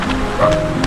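Steady rain patters on a surface at a campsite in Daraitan, Philippines, a constant hiss with faint drips, close by and moderately loud.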